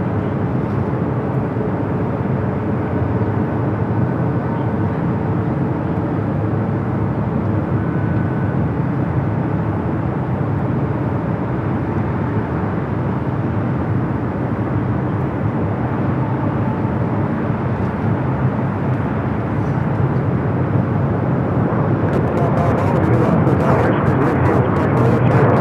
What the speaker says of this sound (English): These Delta 767 at 300 ERs